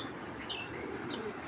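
A female racing pigeon coos softly and faintly with a few light chirping notes over a low, murky background, and no one speaks.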